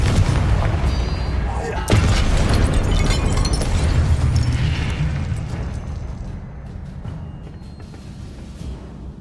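A Confringo blast spell goes off in Hogwarts Legacy gameplay, a loud deep boom near two seconds that rolls into sustained rumbling and crackle, with talking over the game din.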